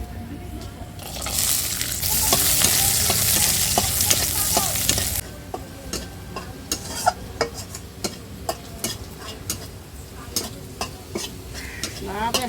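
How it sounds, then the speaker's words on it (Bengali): Onions fry loudly in a pan of oil, a dense sizzle that swells for several seconds, then gives way to a softer fizz broken by repeated clinks and scrapes of a spoon stirring against the pan. "দেখুন কত সুন্দর ভাজা হয়েছে পেঁয়াজটা।"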